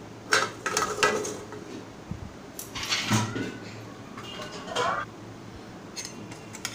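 Pressure-cooked bharangi greens being drained through a sieve, with scattered clinks and clatters of a metal strainer and pot, plus soft wet shuffling, all close and at moderate volume.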